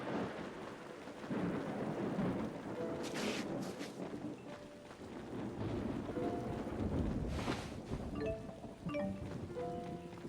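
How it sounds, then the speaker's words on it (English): Thunder and rain in the video game Tales of Xillia 2: low rolling thunder rumbles over steady falling rain, with a few sharper cracks and brief chiming game tones near the end. "Oh, there'll definitely be thunder."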